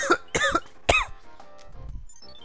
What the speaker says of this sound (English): Sorry, I'm coughing too much.